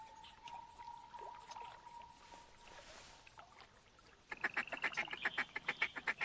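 Duck feeding calls in theHunter Classic at Rougarou Bayou, starting with faint scattered quacks, then a rapid, loud run of rhythmic chattering calls near the end, with no voices.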